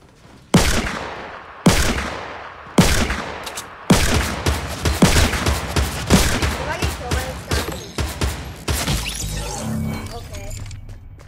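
Gunshots in the video game Fortnite Battle Royale, first as several loud, separate blasts and then as a rapid run of close shots. A voice talks briefly near the end.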